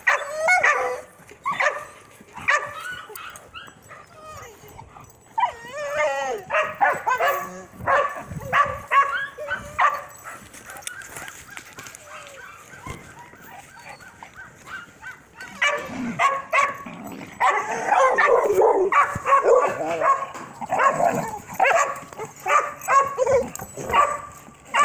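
Dogs barking, yipping and whimpering in a scuffle, loud close bursts of rough barks and snarls coming in waves with brief lulls, a person talking over them at times.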